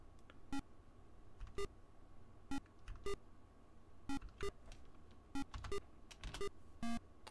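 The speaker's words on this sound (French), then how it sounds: "Bip." Short electronic beeps from the Ring of Darkness RPG on an old computer, roughly a dozen sharp tonal blips spaced irregularly over several seconds, fairly faint against a low background hum, with no talking.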